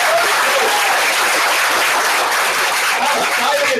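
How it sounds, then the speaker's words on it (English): Loud, dense round of applause from a room of colleagues at a sales meeting, close and continuous at full strength throughout, with a few voices faintly mixed in. "Let's give her a big round of applause."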